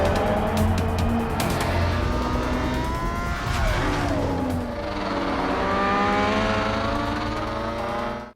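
Moto2 racing motorcycles at the start of a race, engines revving high and climbing in pitch as a close pack accelerates away together, loud and dense throughout.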